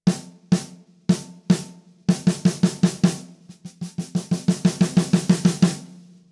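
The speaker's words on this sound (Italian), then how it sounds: "E questo, diciamo, è il suono di rullante normale." A snare drum struck normally on the drumhead: a few spaced, ringing hits, then fast even strokes that speed into a steady roll, loud and close with no voices.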